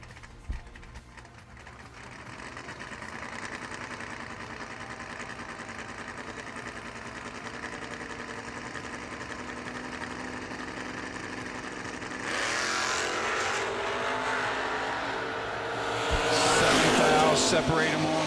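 Drag race cars including a Mustang at a bracket race on a drag strip, a sustained engine drone that swells into louder roaring passes near the end, with a track announcer speaking over it.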